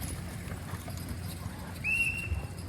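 Draft horses for a horse pull at a county fair, heard at a distance as soft, faint hoof and movement noise over crowd ambience, with a brief whistle-like tone partway through.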